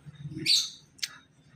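Two brief, bright chirps from a white-rumped shama, a whistled note followed by a sharper call, over a faint low murmur.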